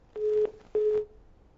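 Two steady electronic telephone tones, each lasting about a third of a second and separated by a short gap, sound on a call-in line right after a caller is cut off, with no talking.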